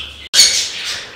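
Chicks of exotic pet birds such as lovebirds and budgies on a bird farm give one loud, close, harsh squawking call after a brief gap in the background noise.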